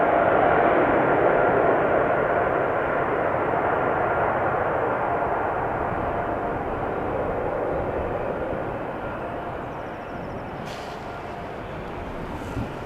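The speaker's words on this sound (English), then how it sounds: "as the Qatar triple is taxiing towards the threshold, the 737 is coming this way to go ahead in front of it" A Qatar Airways Boeing 777 taxis at Amsterdam Schiphol Airport, giving a steady, fairly loud broadband engine roar that eases slightly over time, with no talk.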